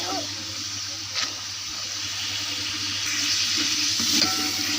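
Chicken biryani simmering in a pot with a cup of water added, a steady sizzling bubble with occasional stirring scrapes and faint clinks, continuous and close throughout.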